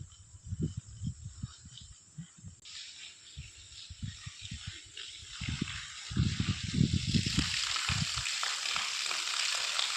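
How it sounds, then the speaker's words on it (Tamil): Water gushing from a broken pipe and splashing into an open well, a steady rushing hiss that swells louder toward the end, with low thumping splashes throughout. "இந்த பைப் உடஞ்சி நமக்கு தண்ணி ஊற்றிக்கிட்டு இருக்குது"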